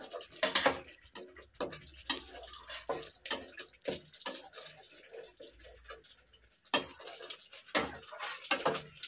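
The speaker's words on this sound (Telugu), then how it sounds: "మొత్తం అన్నీ ఒకసారి మిక్స్ చేసుకుందాం." Utensil scraping and clinking in a pan while aloo potol curry is stirred with garam masala and cumin, irregular close taps and scrapes with brief pauses, no talk.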